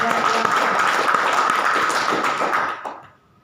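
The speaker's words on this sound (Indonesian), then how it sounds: "Tepuk tangan dong untuk stem cell kita." Audience at a stem cell presentation breaks into dense, loud applause that holds steady for a few seconds, then fades out quickly at the end.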